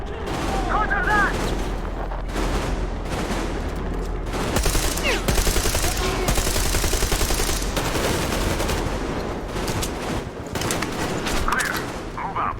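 Sustained covering gunfire in Metro Exodus: rapid automatic bursts and heavy shots hammer on for several seconds, loud and close, with brief lulls and scattered voices calling out between volleys.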